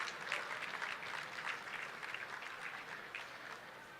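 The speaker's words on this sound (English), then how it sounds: "Let's give a big round of applause to all of this evening's sponsors." Diners at a chamber of commerce annual dinner give a round of applause for the evening's sponsors, a soft, even patter of many hands clapping in a large hall, heard from a distance.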